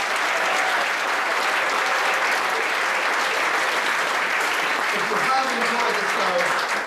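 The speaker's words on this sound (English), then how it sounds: "Would you give them all a great big round of applause?" Theatre audience giving the crew and front-of-house staff a big round of applause, a sustained, loud crowd clapping with some faint voices mixed in beneath it.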